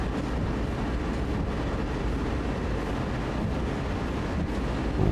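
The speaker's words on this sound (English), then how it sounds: "let's turn on dynamic brakes a little bit" A freight locomotive with dynamic brakes engaged in Train Sim World 2, running on Sand Patch Grade, gives a steady loud low rumble and whine that holds level throughout with no speech.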